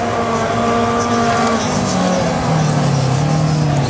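A two-litre rally race car is heard at a rally round near Plouay, its engine droning loudly with rising and falling pitch as it drives past, with a commentator talking over it.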